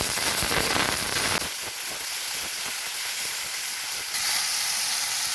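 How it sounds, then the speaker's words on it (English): Chopped tomatoes hit a hot pan of browned, translucent onions for tomato vermicelli upma, setting off a loud burst of sizzling that settles into a quieter, steady frying hiss and brightens again near the end. "I am adding the chopped tomatoes."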